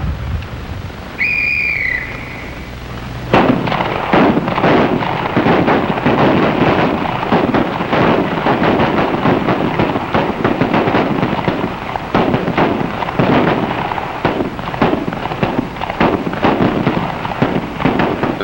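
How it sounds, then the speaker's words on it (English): Gunfire at an FBI firing range, a dense, continuous barrage of rapid overlapping shots echoing loudly after a brief whistle, sustained without pause. "The sound of gunfire echoes across the range through the day and into the night."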